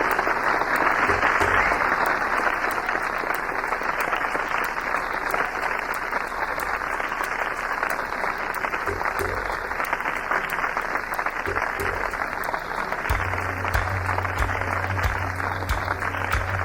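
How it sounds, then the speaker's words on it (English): An audience gives sustained, even applause as the Reverend Dr. Martin Luther King, Jr. is introduced: a dense, loud wash of many hands clapping that continues unbroken, with no speech over it. "Thank you very kindly for your heartwarming applause."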